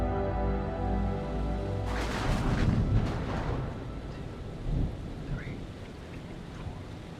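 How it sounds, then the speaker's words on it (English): Thunderstorm with rain in the video game Man of Medan: a steady wash of rain with a deep rolling thunder rumble in the middle and a softer roll shortly after. "The storm's 8 miles away."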